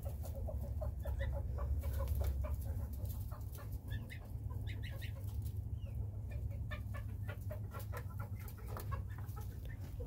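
A rooster inside a nesting box clucks and makes odd, stuttering chicken noises close by over a constant low hum, with scattered calls throughout.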